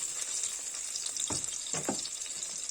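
Vegetables frying and caramelizing in a pot for vegetable broth, a steady bright sizzle with a few scraping stirs in the middle, close and without talk.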